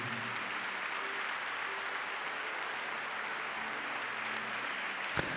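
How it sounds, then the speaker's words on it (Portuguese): Church congregation applauding together, a steady, dense wash of clapping that fills the space evenly throughout, with one sharp louder clap near the end. "A igreja dê uma forte salva de palmas ao Senhor Jesus."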